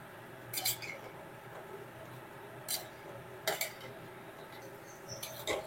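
A spatula works fried pointed gourd into masala in a pan, with a few sharp metallic scrapes and clinks spaced apart over quiet, faint background sizzle.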